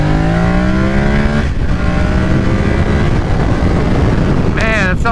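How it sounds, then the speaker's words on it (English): A 2023 Yamaha R7 motorcycle engine runs on a dyno after an ECU flash, revving loudly up to a high steady pitch, dropping back into a rumbling idle, then blipping up again briefly at the end. "listen to this motor right now"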